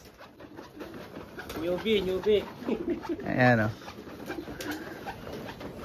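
Pigeons coo in a loft in New Zealand, giving several soft warbling calls close by, with one louder burst partway through. People talk over them.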